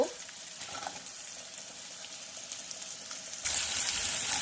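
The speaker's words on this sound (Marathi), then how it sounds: "छानपैकी असा आपला कांदा परतून झालेला आहे" Chopped medium-sized onion sautéing in a pan for spicy Maharashtrian moong dal varan, a steady soft sizzle and hiss running throughout that grows noticeably louder and brighter near the end, with no talking.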